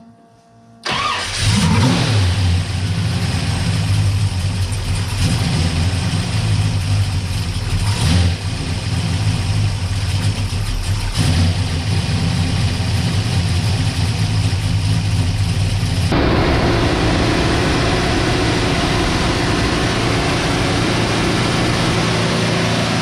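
A 1966 Chevelle engine cranks and catches near the start, then runs steadily at a loud, close idle with a few brief revs, its tone shifting partway through.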